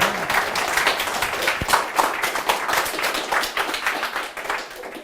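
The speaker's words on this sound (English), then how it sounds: "please give me an applause" Steady applause from a conference audience at a mobile developer meetup talk, many hands clapping densely and continuously at moderate volume for about five seconds with no speech.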